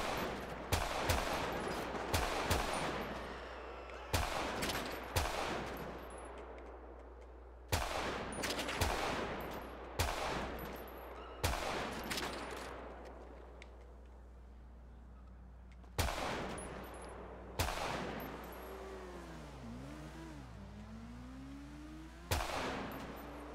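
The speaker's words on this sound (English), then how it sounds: "We about to get in the shootout." Gunfire in a shootout in GTA 5: loud, sharp video-game gunshots come as single shots and quick volleys, each with a booming tail. Some shots echo over a steady engine drone, with a brief rising whine near the end.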